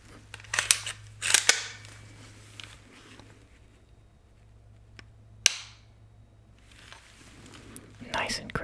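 AR-15 rifle trigger being pulled and reset, a few crisp close metallic clicks spaced apart in a quiet room, with soft whispered talk between them.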